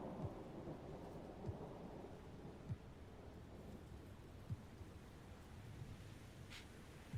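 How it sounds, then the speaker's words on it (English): Thunderstorm ambience plays from the NBA 2K24 video game menu: steady rain hiss with low rumbles of thunder and scattered drops, no talk. "good thing we've got that storm playing in the background"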